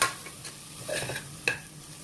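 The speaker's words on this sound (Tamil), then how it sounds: "2 டேபிள் ஸ்பூன் அளவுக்கு இஞ்சி பூண்டு பேஸ்ட் போட்டுடலாம். போட்டு நல்லா கிண்டி விட்டுக்கோங்க." Ginger garlic paste frying with onions for a pressure-cooker mutton biryani, stirred in the pot: a soft steady sizzle with a few light spatula scrapes and clinks, close and alone.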